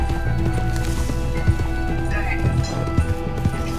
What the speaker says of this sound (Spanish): El caballo está medio cansado de tanto correr.